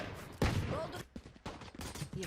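Rapid gunfire from the tactical shooter Valorant, with sharp bursts of shots close up that recur in clusters across the moment, mixed with game effects.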